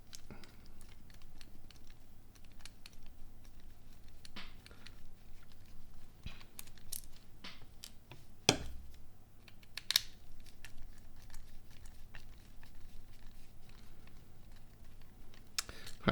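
Small screws being removed from a pair of Sennheiser HD280 headphones: faint, close, irregular ticking clicks and light scraping of a small screwdriver on plastic, with one sharper knock, all quiet against a low background hum.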